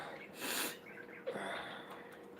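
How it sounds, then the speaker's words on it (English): A congested person with a cold sniffles, one broad noisy burst of breath followed by a shorter sharp nasal intake, close and fairly loud against a quiet room. "sorry for the sniffles, guys."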